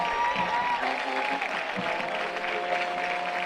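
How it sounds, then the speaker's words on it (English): A stadium crowd at a West Liberty University versus Concord college football game applauds its honored softball champions, steady broad clapping and cheering lasting throughout, with a PA announcer's voice over the top. "Your Concord Silver champions, a round of applause"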